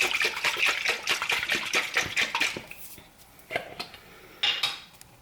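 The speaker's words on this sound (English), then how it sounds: "I tend to add a bit more water, just about a third of the jar with water, and again give it a good shake" A glass jar of pasta sauce topped up with water is shaken hard in a home kitchen, making a rapid, dense rattle and slosh. After a few seconds it drops to a couple of separate knocks and clinks.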